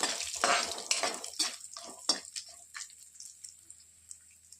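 Cashews, almonds and raisins frying in ghee while stirred with a spoon in a pan, a series of scraping strokes over a soft sizzle, loud at first and fading to lighter taps, without talking.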